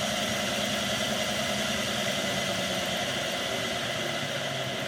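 A model's electric motor runs steadily at close range with a constant whirring drone and faint vibration, and it never varies in speed.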